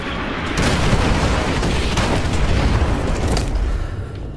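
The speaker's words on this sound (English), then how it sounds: "Artillery inbound." An artillery strike explodes in a video game, a loud, heavy booming blast with deep rumble that swells and holds for a few seconds before slowly fading, heard without any voices.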